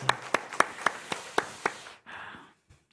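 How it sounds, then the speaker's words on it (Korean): At a Friday night prayer service in a Korean church, a handful of quick, evenly spaced hand claps ring out for about two seconds and then stop, followed by a soft breathy rustle and near silence. "우리 청년들 위해서 박수로 한번 격려하십시다"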